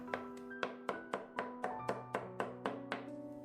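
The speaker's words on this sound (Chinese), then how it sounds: "再给它剁一剁，这样吃起来口感会更好" A knife minces cabbage on a cutting board in quick, regular thunks, about a dozen crisp close strikes in a few seconds, over gentle background music.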